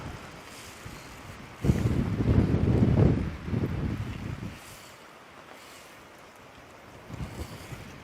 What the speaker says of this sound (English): it really is getting very blustery